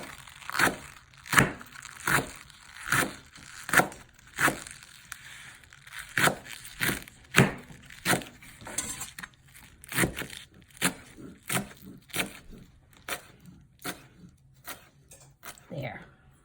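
A knife slicing vegetables into thin pieces on a board, crisp rhythmic cuts roughly every half second, close and steady, with a voice talking over them.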